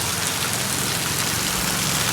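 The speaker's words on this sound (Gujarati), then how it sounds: "જોઈ લો અત્યારે ધીમી ધારે વરસાદ આવવાનું ચાલુ છે બરાબર." Light, steady rain falls continuously on a farm, an even close hiss of drops with no voices and no thunder.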